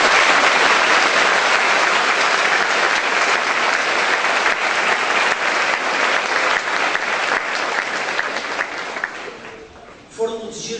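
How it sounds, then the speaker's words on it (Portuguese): A church congregation claps for the Lord at a Comunidade Vida Feliz service, dense loud applause that fills the room and holds steady before thinning out near the end as a voice comes in. "Você pode dar um aplauso ao Senhor?"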